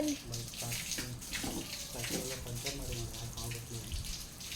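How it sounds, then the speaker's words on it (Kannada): Steady splashing water runs continuously, like water being poured or flowing from a tap, with faint voices underneath. "ನಮ್ಮ ಪಪ್ಪ ಈಗ ನೀರು ಹಾಕ್ತಿದ್ದಾರೆ"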